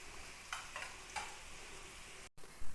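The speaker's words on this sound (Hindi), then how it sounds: "इसके अंदर एक दरमियानी प्याज बारीक कटी हुई डाल देंगे, और इसे ज़्यादा कलर नहीं देना, बस सॉफ्ट करेंगे" Finely chopped medium onion softening in ghee in a kadai for chicken pulao, a faint, even sizzle with a few light stirring scrapes, close by, followed by a brief dropout and a low bump.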